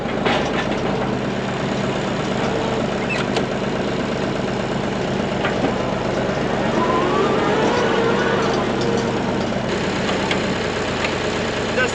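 A farm tractor's engine idles with a steady, even drone at a horse stable, running continuously at moderate volume with some faint clanks and background noise mixed in.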